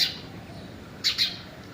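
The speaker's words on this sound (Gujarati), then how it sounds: "ચકલી." A house sparrow at a home chirps in a few short bright bursts, one at the start and a quick pair about a second later, against a quiet background.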